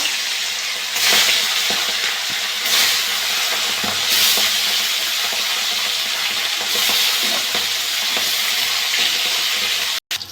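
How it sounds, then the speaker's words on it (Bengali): Tilapia pieces fry in hot oil, giving a steady, loud sizzle with brief crackling bursts throughout, close up and without talk, before the sound cuts off abruptly near the end. "মাছগুলো আমি একইভাবে ভেজে নেব।"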